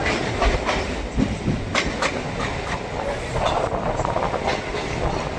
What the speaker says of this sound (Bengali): আর সেই সাথে আমাদের ট্রেন ঢুকছে বারাসাত জাংশনে।